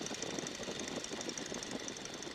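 A Stearman biplane's radial engine runs steadily at reduced power of about 1,300 RPM, heard from inside the aircraft as a continuous, even drone with a rough, pulsing texture and no talk over it.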